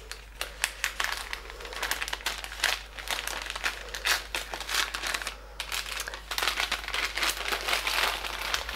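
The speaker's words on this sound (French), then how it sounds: "Je déballe et je vous parle après." Gift wrapping paper crinkles and rustles as a package is unwrapped after its ribbon is slid off, a steady run of close, busy crackling bursts with no talking.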